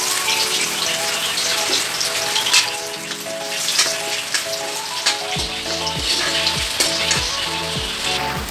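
Dry cumin and bay leaves sizzling in hot mustard oil in a kadhai, a loud, close, continuous crackling sizzle throughout, joined near the end by rhythmic pulsing tones.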